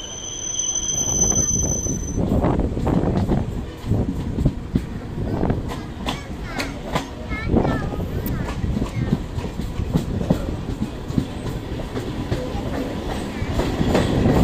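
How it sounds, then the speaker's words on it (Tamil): A suburban EMU electric train runs on rails near Chennai, with loud, continuous rumbling, rhythmic clickety-clack and brief wheel squeals heard from inside the train. "இப்போ வந்து ட்ரெயின் நிற்கிற ஸ்டேஷன் தாங்க அம்பத்தூர் ரயில்வே ஸ்டேஷன்."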